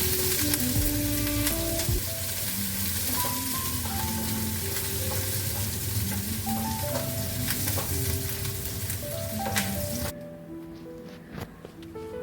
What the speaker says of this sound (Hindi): प्याज व्याज मेरी भुन गई थी, तो उसमें मैं मसाला डाल देती हूँ।